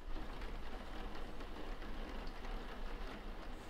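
Heavy rain pours down in a steady, dense hiss of countless drops that holds an even loudness throughout, with no voices.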